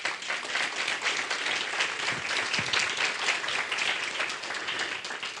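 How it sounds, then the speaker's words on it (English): Steady, continuous clapping from an audience at a county school governance bill forum, moderately distant and unbroken throughout, with no voices standing out. "she deserves a round of applause"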